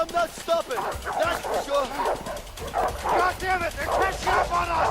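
Doberman dogs bark and yelp repeatedly in the video game A Way Out, with a fairly loud, steady stream of barks and whimpers that runs under excited talking throughout.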